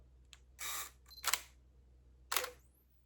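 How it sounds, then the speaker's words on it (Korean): Single-lens reflex camera shutter firing for a one-second exposure with flash, set for first- or second-curtain sync: a crisp opening clack, a second mechanical snap, then a closing clack about a second later, with a faint flash recharge whine after. "1초의 시간으로 사진을 찍어 볼게요"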